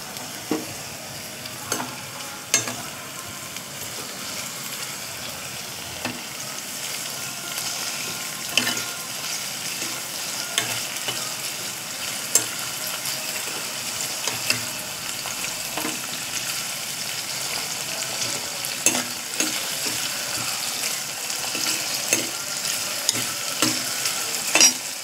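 Tomatoes sautéing in a pan for sambar give a continuous soft sizzle, broken by frequent scraping clicks and taps of a spoon stirring against the pan over roughly 25 seconds, with no talking.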